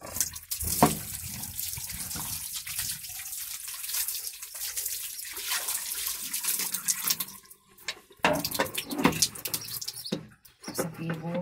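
Water gushes steadily from a hose during outdoor cleaning, a continuous hissing spray with brief interruptions near the end, while a person talks over it.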